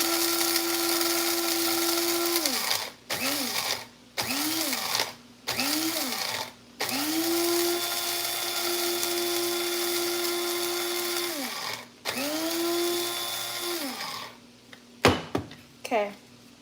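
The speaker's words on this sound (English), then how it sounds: "Grind up my coffee." An electric coffee grinder grinds beans for a latte in a series of pulses, a high steady whine that cuts in and out with short pauses and a few quick bursts near the end, close and clear.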